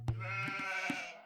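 A single sustained sheep bleat from the Age of Empires 2 strategy game, heard on a Vikings versus Vietnamese Arabia match, wavers and holds steady for about a second before trailing off, close and clear.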